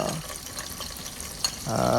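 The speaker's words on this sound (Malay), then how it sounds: "kita goreng dulu bagi dia layu sikit" Spices such as star anise, cinnamon bark, cloves and black pepper fry with onions in a pan for nasi mandy, giving a soft crackle that swells into a louder sizzle near the end.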